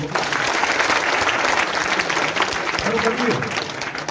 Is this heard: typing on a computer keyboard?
no